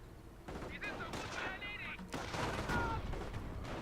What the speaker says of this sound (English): There goes the strafing run